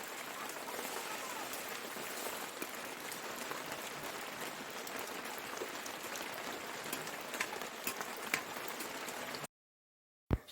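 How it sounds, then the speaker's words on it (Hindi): Steady rain falls around a village home, a dense even patter that continues for several seconds before cutting to silence near the end. "बारिश अभी भी हो ही रही है"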